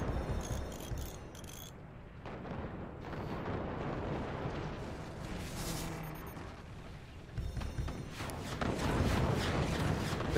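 Nukes and missiles fire and explode in the artillery strategy game Forts, a dense continuous stream of booms and blasts with rumbling impacts, loud and without talk.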